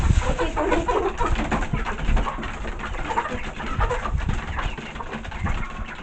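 Farm chickens and other birds murmur and cluck in a busy, continuous chorus at moderate distance, with soft coos and scratching noise beneath.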